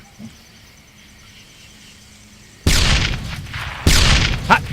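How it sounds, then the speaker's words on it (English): Stick grenade explosions in the World War I shooter Darkest of Days: after a quiet stretch with faint ambience, two loud, heavy booms land about a second apart, each followed by a rumbling, crackling tail. "Hot damn, just like a big old firecracker."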